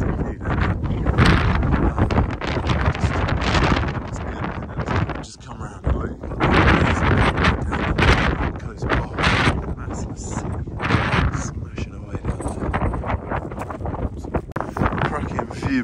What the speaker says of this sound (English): Okay, really windy up here.